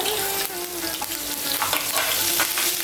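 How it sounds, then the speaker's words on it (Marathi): Hot oil sizzles and spatters continuously as curry leaves fry in a tempering, with occasional utensil scrapes and taps; close and fairly loud, no speech. "कडीपत्त्याची पानं घालूया"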